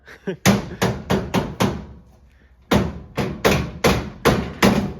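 Heavy metallic hammer blows on the grille of a 1955 Chevy, in two rapid bursts of about five strikes each, loud and close, separated by a short pause.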